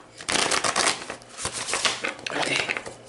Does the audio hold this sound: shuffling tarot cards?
yes